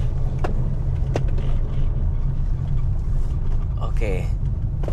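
Honda WR-V in sport mode weaving through a slalom, its engine and road rumble a steady low drone inside the cabin, with brief knocks and a faint voice near the end.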